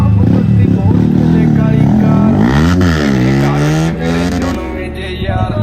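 A motorcycle engine revs loud and close during a wheelie, its pitch sweeping up and back down, with people talking and shouting over it throughout.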